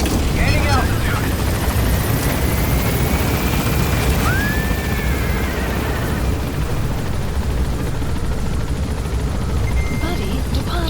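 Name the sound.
helicopter gaining altitude in Metal Gear video game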